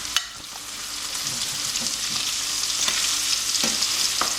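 Venison steak frying in a pan over moderate heat gives a steady, loud, close sizzle throughout, with a few sharp crackles and pops rising out of the hiss.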